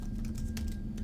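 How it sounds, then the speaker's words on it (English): Quick typing on a computer keyboard, a run of close, light key clicks in an uneven rhythm over a low steady hum, with no voices. "I'm typing in the chat"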